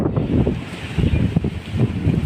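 Strong wind in a New Zealand garden buffeting the microphone in loud, rumbling gusts, rushing and roaring close up without pause.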